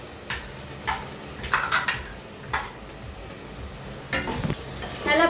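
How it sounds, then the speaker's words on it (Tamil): Ground masala being sautéed and stirred in a pan for banana flower biryani, with a spoon scraping and clinking against the pan in several separate bursts over a soft sizzle, close by with no talking. "போட்டு நல்லா வதக்கி விடுறோம்"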